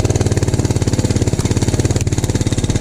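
A motorcycle engine runs loud and close with a fast, even pulsing throb that holds steady throughout, no talk over it.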